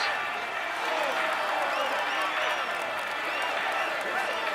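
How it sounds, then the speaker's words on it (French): Steady applause from a large crowd at the Tour de France, continuous and dense, with a voice talking over it throughout. "on l'applaudit encore"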